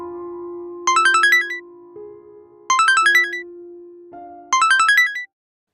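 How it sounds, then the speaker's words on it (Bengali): A mobile phone rings in an animated Bengali ghost story. The same bright, rising ringtone phrase plays three times in a row over a sustained soft tone, then stops. "খানিক বাদেই মোবাইলটা বেজে উঠল"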